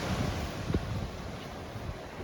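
Gusty wind buffets the microphone on a beach in Sardinia, Italy, with a steady rumble of surf underneath and occasional stronger low thumps.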